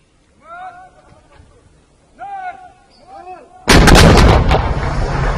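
Heavy artillery shelling and gunfire during a bombardment of towns in Hama, a sudden loud, close blast with rumbling echo and cracking shots that follows a stretch of shouting voices.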